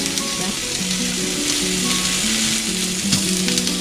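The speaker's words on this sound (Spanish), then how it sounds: "vean cómo están ahí asando nuestros tomatillos, ¿verdad?" Half a kilo of green tomatillos roast in a hot pan for a Mexican salsa verde, giving a steady, dense sizzle and crackle throughout, with background music playing underneath.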